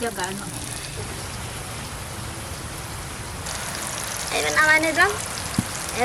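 Steady rain pours outdoors during the monsoon while food is cooked in a kadai, a constant broadband hiss with voices talking over it and a brief clatter near the end.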